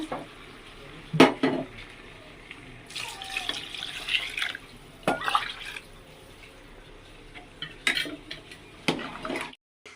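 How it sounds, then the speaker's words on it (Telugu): Water is poured into rice in a pot while preparing biryani, with splashing bursts mixed with clinks and scrapes of utensils and cookware in a home kitchen, heard close and intermittent. "దీంతో ఇంకా 4 గ్లాసులు అయితే ఇంకా వాటర్ అయితే వేస్తున్నాను"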